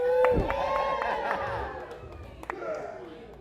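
Comedy club audience cheering and whooping, a brief burst of crowd noise that fades quickly.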